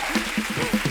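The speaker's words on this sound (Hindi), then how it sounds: "एक बार जोरदार ताली हो जाए।" Studio audience clapping on an Indian TV show, a steady burst of applause at moderate level with rhythmic louder swells, no voices over it.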